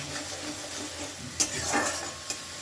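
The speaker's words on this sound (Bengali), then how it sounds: "মশলাগুলোকে আমি মিডিয়াম ফ্লেমে কষিয়ে নেব" Spices sautéing in a pan over a medium flame make a low, soft sizzle, with a sharp utensil scrape and clink partway through and another small tap near the end.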